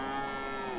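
A single short, clear cow moo from the video game Hans Christian Andersen's Tin Soldier plays alone, with no talking.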